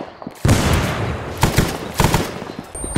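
Gunfire and a frag grenade blast in the Vietnam War setting of Arma 3 with the SOG Prairie Fire expansion, a loud roaring burst followed by several sharp volleys of shots, fairly close and with no talk over it.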